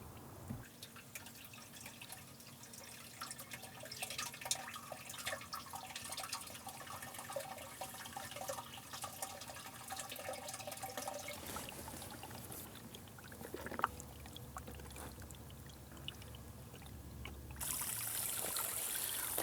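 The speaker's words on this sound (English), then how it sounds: "Okay, we have water in the skimmer now." Water pours over a small waterfall into a pond skimmer with a steady splashing trickle and scattered drips, faint and continuous, swelling to a fuller rush near the end.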